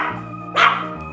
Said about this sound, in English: Pomeranian dog.